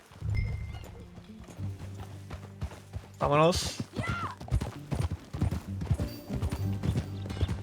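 Horse hooves clip-clop steadily while riding in the Red Dead Redemption 2 video game, a rhythmic trot under game music with a horse whinny partway through and a voice speaking briefly.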